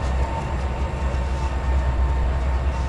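A train rolls steadily along the track close by, a loud continuous rumble with a rhythmic rail clatter and a sustained metallic tone, and no one speaks.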